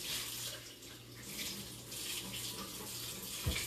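Tap water running steadily into a kitchen sink during rinsing while cooking, a continuous close hiss with a brief clunk near the end.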